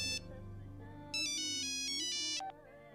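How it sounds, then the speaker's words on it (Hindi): A mobile phone ringtone rings in an action movie scene, a bright electronic melody in a short burst and then a longer, louder phrase, heard alone over a low hum. "साहब आपका फोन।"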